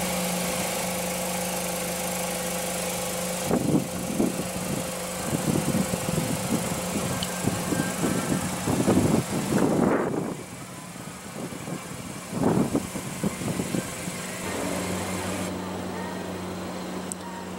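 A 2016 BMW X3 with a 2.0L turbocharged four-cylinder idles steadily at close range, a low even hum that runs the whole time, with a few short louder bursts partway through.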